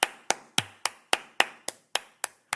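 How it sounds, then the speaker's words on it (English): A single person clapping hands, ten sharp, evenly spaced claps at a steady rhythm, close and distinct with silence between them. "Head boy, me have to give you a round of applause."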